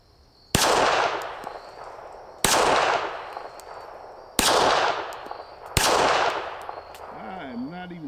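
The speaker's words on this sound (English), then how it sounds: "we'll do a little bit more shooting" Four loud, sharp pistol shots from a Beretta 80X Cheetah ring out at an outdoor range, spaced a second or more apart, each trailing a long echoing decay, with a brief voice at the end.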